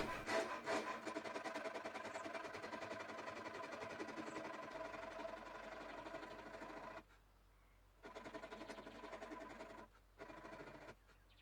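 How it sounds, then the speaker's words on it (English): A half-round rasp carves the volute and headstock transition of a custom bass guitar neck, with continuous close rasping strokes that stop abruptly, then two shorter bursts after pauses. "I'll use a half-round rasp to carve the volute and transition to the headstock"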